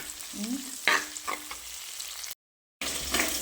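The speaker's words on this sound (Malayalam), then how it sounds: "ഇതിലേക്ക് നമ്മൾ തക്കാളി ഇടാം" Tomato added to a frying fish curry base in a home kitchen brings a soft sizzle with a few stirring clatters, fairly faint, broken by a brief total dropout before the frying resumes; no talk.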